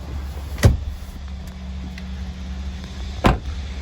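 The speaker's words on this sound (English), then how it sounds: "Got your power sliding rear window." Power sliding rear window on a 2018 GMC Sierra 1500 SLT pickup, a sharp clunk followed by a faint low motor whir and a second clunk as it stops, heard close inside the cab.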